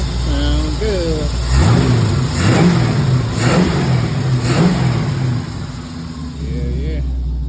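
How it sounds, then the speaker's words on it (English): Antique Ford truck engine fitted with a 650 double pumper carburetor and a small cam, revved several times in quick bursts from a steady idle, loud and close, with someone talking over it. "got this 650 double pumper on here. Sounds good."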